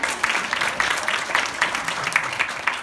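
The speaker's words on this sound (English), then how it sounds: "Give these people a clap." Conference audience at an executive and personal assistant event in Sydney claps in a steady, moderate patter of many hands, fairly even and a little distant, lasting a few seconds.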